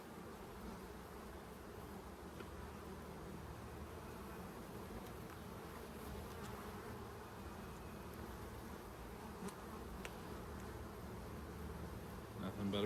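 Honey bee drones drone steadily inside an open hive during a brood chamber inspection, a continuous close buzzing hum with faint rustling and occasional background talk.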